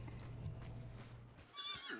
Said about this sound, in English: The horse is going off